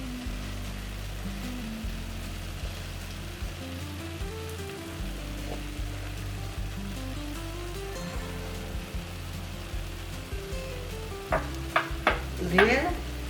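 Sambar masala is added to a frying pan and stirred, giving a steady close sizzle under continuous low scraping, with sharper clinks and scrapes of the spoon near the end; no one talks.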